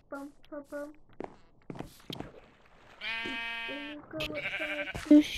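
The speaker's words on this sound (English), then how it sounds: "Then you go outside to shear some sheep." Sheep bleat in a short series of wavering cries, some near and overlapping, set among scattered thumps and brief vocal sounds while someone speaks between the calls.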